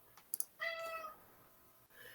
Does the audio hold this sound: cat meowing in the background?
yes